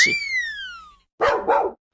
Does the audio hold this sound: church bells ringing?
no